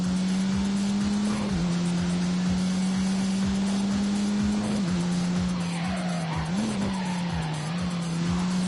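An Alpine A110 mid-engine, rear-drive sports car in a racing video game, engine droning steadily with continuous tire skidding and squeal, loud and unbroken throughout.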